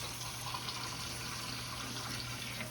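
Water pours steadily into a pot of beef tips, a continuous fairly quiet splashing gush with no talk over it.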